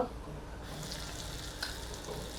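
A Marathi tempering for thecha: hot oil hisses as the seasoning and a pinch of asafoetida go in, a steady moderate sizzle with a brief crackle, faint and close.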